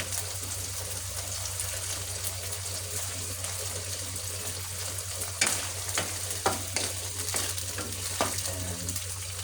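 Sardines sauté in a pan with a steady frying sizzle, and a utensil scrapes and clacks against the pan in several sharp stirring strokes during the second half, with no one talking.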